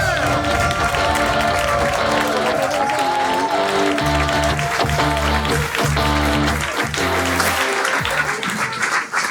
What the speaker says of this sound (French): Est-ce qu'on peut les applaudir pour qu'ils rentrent sur scène?